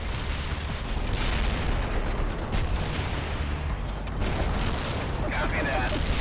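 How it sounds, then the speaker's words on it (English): Artillery barrage in the war game World in Conflict: a dense, continuous roar of rumbling blasts and crackling gunfire that holds steady for about six seconds, with faint voices beneath. "Heavy artillery barrage inbound"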